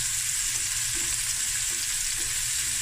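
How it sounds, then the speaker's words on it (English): Sardines and mussels fry in a pan with a loud, constant sizzling hiss, steady and close throughout without any talking. "I'm gonna let this fry."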